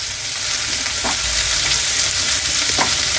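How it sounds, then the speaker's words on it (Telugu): Green chillies frying in hot oil in a pan for jeera rice made with ration rice, a loud steady sizzle throughout with a couple of brief stirring scrapes, no talking. "ఇంకా ఈ టైంలో పచ్చిమిర్చి, మంచి వేగాలి ఇవన్నీ."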